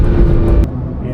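A Ferrari Testarossa engine gives a loud, close, steady low rumble that drops off slightly after a brief sharp click partway through.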